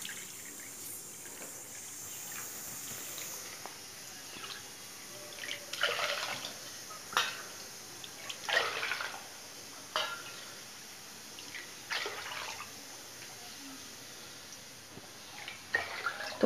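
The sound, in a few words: pouring water into corn porridge, measured with a bowl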